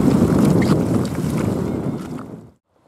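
A loaded boat is paddled across water toward a peninsula while wild camping, giving a steady close wash of water and wind noise that continues evenly before cutting off abruptly near the end, with no talk.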